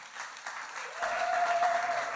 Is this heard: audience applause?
yes